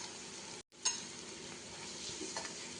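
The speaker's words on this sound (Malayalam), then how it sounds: "ഈ സമയത്ത് ഒരു ചെറിയ ടീസ്പൂണ് മുളകും പൊടി, ഗരം മസാല, മഞ്ഞൾപ്പൊടി, കുരുമുളക് പൊടി ഇതിട്ടിട്ട് ഒന്ന് വഴറ്റി കൊടുക്കാം കേട്ടോ" Onion, capsicum, chilli powder, garam masala, turmeric and pepper powder sauté in a hot pan with a steady, close sizzle, a brief dropout, then a scraping stir as the frying continues.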